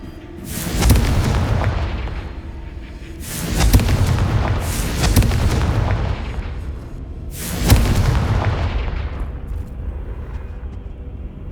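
Confringo spell explosions in the Hogwarts Legacy video game, four loud booming blasts with deep rumbling tails, two close together in the middle, each fading slowly before the next.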